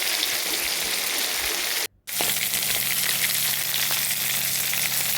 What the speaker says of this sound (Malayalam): വേറൊരു ചട്ടിക്കകത്ത് വെളിച്ചെണ്ണ ഒഴിച്ചിട്ട് പുരട്ടി വെച്ച് ചിക്കന്